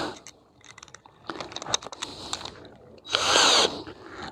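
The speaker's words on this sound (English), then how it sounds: "I shall very gently put 2 screws into those raw plugs" An electric screwdriver on its slow setting drives screws into wall plugs while a garden window mirror is mounted, with scattered taps and handling clicks followed by one short, loud whirring burst near the end.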